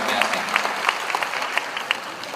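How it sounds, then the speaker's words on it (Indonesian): Audience applause for a discussion panel at an Indonesian diaspora economics forum, a steady wash of many hands clapping throughout with scattered louder claps standing out. "tepuk tangan sekali lagi untuk panel kita yang luar biasa"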